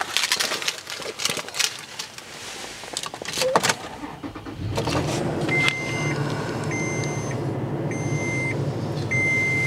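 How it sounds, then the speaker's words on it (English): A 2014 Toyota FJ Cruiser V6 starts up: a few clicks and rustles, then the engine catches and settles into a steady, close idle, while a repeating warning chime beeps over it. "I'll just start it up here."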